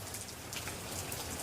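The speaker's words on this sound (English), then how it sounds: "It's been raining for 48 hours." Steady rain after two days of downpour, a soft, even hiss of drops hitting surfaces outdoors, continuous and fairly faint with no voices.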